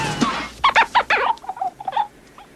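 Ducks quacking indoors in an apartment in a film comedy scene: a rapid series of several nasal quacks and honks, fairly close and loud, with no talking over them.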